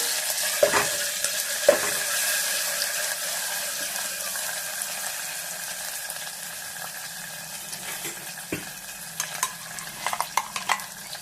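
Ginger pachadi sautés in oil with a low, faint sizzle, broken by a few sharp scrapes of a spoon against the pan near the start and toward the end.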